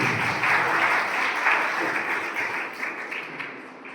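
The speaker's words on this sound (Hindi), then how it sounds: "महाविद्यालय परिवार एक बार प्रिंसिपल सर के लिए जोरदार तालियां कर देंगे" Enthusiastic applause from a college audience for the principal at a Teachers' Day gathering, steady dense clapping throughout that tapers slightly toward the end.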